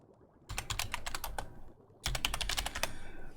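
Computer keyboard keys clicked in two quick bursts of rapid typing, close and fairly quiet, separated by a brief pause.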